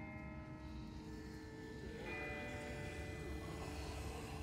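A distant bell rings in The Walking Dead video game, its steady tolling tones sounding faint and far off over a constant ambient background.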